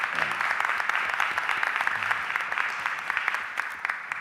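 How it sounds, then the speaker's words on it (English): Applause fills a city council chamber during a budget hearing, a crowd of hands clapping steadily with some sharper individual claps standing out, moderately quiet and without talk. "Give me a round of applause."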